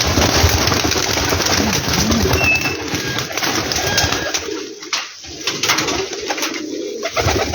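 A flock of teddy pigeons in a loft setup coos continuously and densely, many overlapping soft calls close by over a busy background hum.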